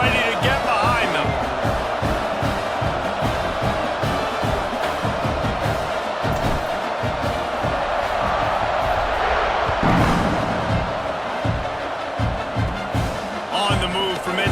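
Stadium crowd in a college football video game, Tennessee versus Oklahoma, roaring and cheering as the teams set up for a kickoff, with a steady loud swell under a commentator talking throughout.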